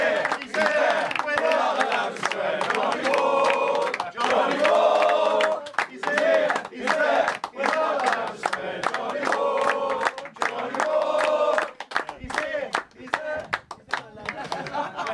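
A TV studio audience greets guest John Wark, an Ipswich Town great, with loud cheering, clapping and shouting that surge and dip in bursts for the whole stretch, thick with crowd voices.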